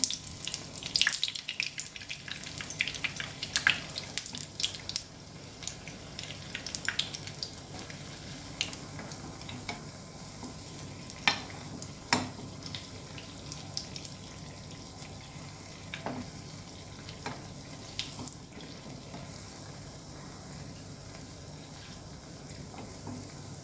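Rava paniyaram batter frying in a paniyaram pan, a soft crackling sizzle with scattered pops and light clinks, fairly quiet and close, with no talk over it.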